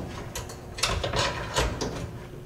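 A raccoon and skunk live trap has its door opened and a part slid into place, giving several close mechanical clacks and a scraping slide.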